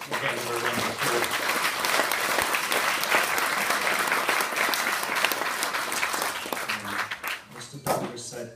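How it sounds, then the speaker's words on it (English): Audience at a professional awards ceremony applauds warmly, with steady, dense clapping that runs for several seconds before thinning out as a voice returns. "So let's give her a round of applause."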